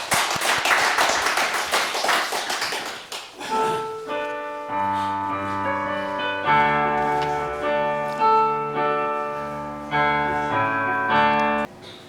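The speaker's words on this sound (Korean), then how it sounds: "우리 영광의 박수 드립니다." A church congregation claps briefly for about three seconds, then sustained organ or keyboard chords take over and continue steadily to the end.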